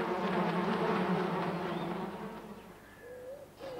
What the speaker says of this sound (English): Sad Sack groaned as more and more wasps arrived